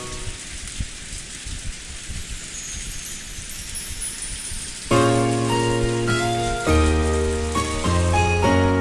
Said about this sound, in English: The wind and rain were strong